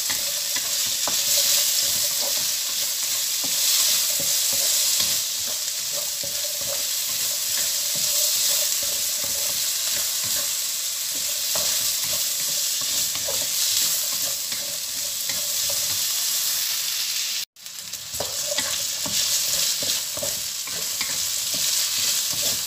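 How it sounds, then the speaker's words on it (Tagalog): Potatoes fry on low heat for corned beef, a steady close sizzle with faint stirring that runs throughout, broken by one brief dropout near the end. "Then, yung patatas. Iluto natin siya sa low fire, guys."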